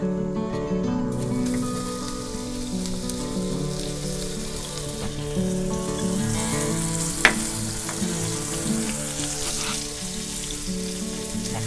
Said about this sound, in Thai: ทอดเขาให้สุกเลยนะคะ แต่ว่ากุ้งเนี่ยเราไม่จำเป็นต้อง ทอดนานนะคะ